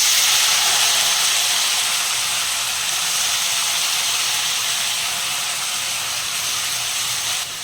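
Chopped onion dropped into hot oil for a Gujarati onion sabji, a loud, steady broadband sizzle that holds evenly throughout with no talking.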